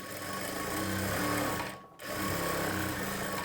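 An electric sewing machine stitches a half-inch margin seam on a lining piece, running as a steady, loud mechanical whir close by, with a brief pause before it starts again.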